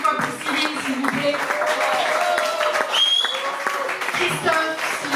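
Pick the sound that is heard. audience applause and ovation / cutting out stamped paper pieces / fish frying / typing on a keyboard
audience applause and ovation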